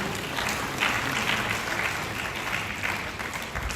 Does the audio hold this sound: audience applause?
yes